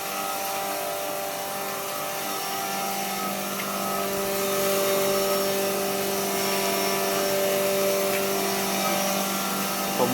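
A turmeric root grinding machine runs with a steady, loud motor whine and grinding roar, holding an even drone for the whole stretch with no voices over it.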